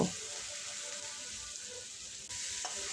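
Fried potatoes and soybean chunks go into hot, oil-released spice paste in a Bengali vegetarian soybean curry, giving a steady close sizzle with a brief stirring clatter near the end.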